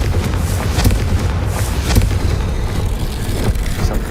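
A Confringo spell in Hogwarts Legacy sets off a loud, continuous burst of booming, crackling blasts with several sharp peaks.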